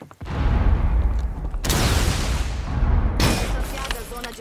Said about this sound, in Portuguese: Aqui já vai ter a primeira explosão.